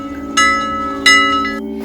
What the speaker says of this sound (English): looking at the clock, waiting for the bell to ring